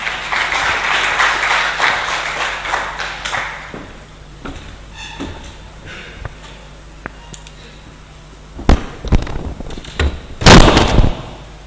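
A conference audience gives a round of applause at the start, with clapping fading within a few seconds, then a quiet room with scattered knocks and a few sharp bangs near the end.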